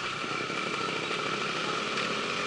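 A two-stroke motorcycle engine drones steadily with a buzzy, raspy tone, close and fairly loud, with no talking.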